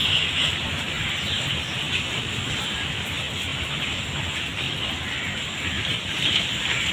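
Rain falls steadily, making a continuous, even hiss that neither builds nor fades.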